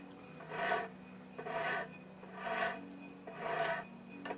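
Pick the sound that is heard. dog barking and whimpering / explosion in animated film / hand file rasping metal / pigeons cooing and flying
hand file rasping metal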